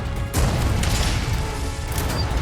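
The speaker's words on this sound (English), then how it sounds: "I was hoping that would be a bigger explosion." Explosion in the video game Resident Evil 4 Remake, Separate Ways: a loud, broad burst with crashing debris that stays dense and sustained through the whole moment, with no talk over it.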